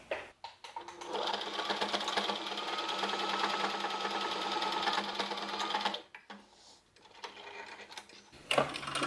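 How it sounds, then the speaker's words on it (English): A sewing machine stitches a half-inch seam on a fitted fabric face mask, running in one steady, close buzzing stretch for about five seconds before stopping, followed by brief handling noises. "Then you're going to sew that down with a 1/2 inch seam allowance."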